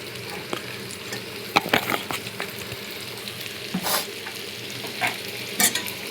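A potato and green chilli mixture frying in a pan as a spoon stirs it, a soft steady sizzle broken by scraping strokes and a few sharp clinks against the pan.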